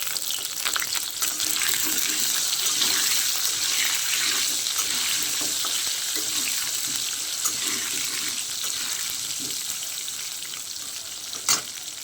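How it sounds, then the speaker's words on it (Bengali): Potatoes with turmeric powder crackle and sizzle steadily in hot oil, fairly loud and close, with a sharp clink near the end; no speech. "ভালো করে ভেজে নিতে হবে আলুটা।"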